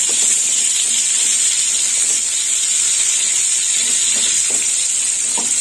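Pointed gourd (potol) pieces fry in hot oil for a mustard potol dish, giving a steady, loud hiss and sizzle that runs unbroken from start to finish with a few faint knocks underneath.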